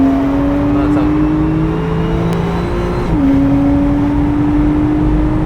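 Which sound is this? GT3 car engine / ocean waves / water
GT3 car engine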